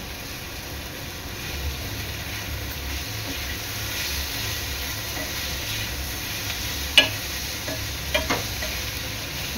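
Ginger garlic paste fries and is stirred in a pan for crab burji, a soft steady sizzle close by with a few sharp clinks of a spoon against the pan near the end.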